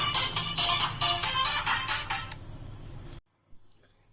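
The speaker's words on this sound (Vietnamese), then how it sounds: "Mình xin lỗi có điện thoại." A phone ringtone sounds during a talk about oxygen and nitrogen gas cylinders, a loud, bright repeating electronic ring that pulses for about three seconds, then cuts off abruptly, leaving near silence and a faint knock.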